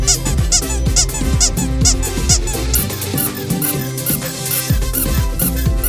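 A rubber duck toy squeaked again and again in quick bursts, loud and close, with repeated squeaks through the whole stretch.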